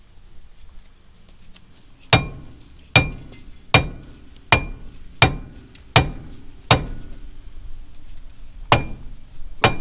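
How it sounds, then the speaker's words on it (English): Dead blow hammer striking metal during brake and strut work on a 1999 Kia Sportage, about ten sharp, loud blows in a slightly irregular rhythm, each ringing briefly in a quiet garage. "Alright, now the dead blow hammer time."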